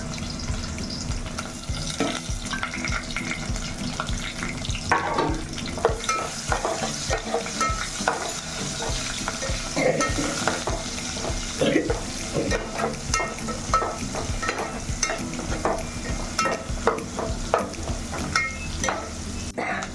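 Tempering spices, asafoetida and chopped onion crackle and sizzle in hot oil for gongura pappu, a continuous close frying hiss broken by frequent scraping stirs and clicks of a spoon against the pan.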